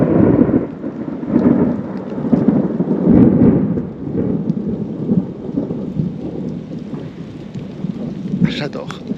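Thunderstorm rumbling with deep rolling thunder over steady rain, loud and close at first then easing to a softer patter with a brief rustle near the end.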